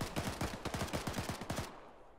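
Fast automatic gunfire from ARMA 3 rings out close and loud, a quick burst of about a dozen shots over roughly a second and a half before cutting off.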